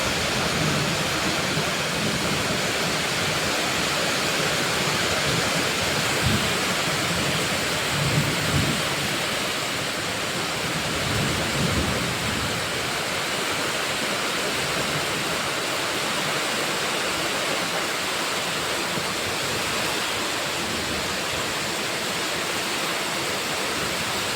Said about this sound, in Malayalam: നിങ്ങൾ കുറച്ച് നേരം മഴയുടെ സൗണ്ടൊക്കെ കേട്ട് ആസ്വദിക്കും